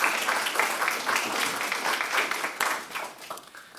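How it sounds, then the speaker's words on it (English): An audience at a public lecture on drug policy in Latin America applauds the speaker, a full round of clapping that holds strong and then tapers slightly near the end. "So let's give him a round of applause and thank you all for coming."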